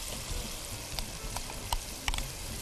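A ground paste of roasted peanuts, sesame and dried coconut roasts in a pan for Hyderabadi baingan, giving a soft, steady sizzle with a few sharp clicks and scrapes of a stirring spoon, fairly quiet and close.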